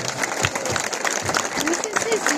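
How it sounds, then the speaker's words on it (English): Crowd applause at the Shedfest car show at Gaydon for Tavarish, steady dense clapping from a large outdoor audience with scattered cheers and voices mixed in. "can we just get a round of applause for this amazing man?"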